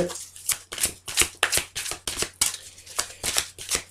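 Tarot cards being shuffled and drawn, a run of crisp riffling, flicking bursts repeating every half second or so, close and fairly quiet, with no one speaking.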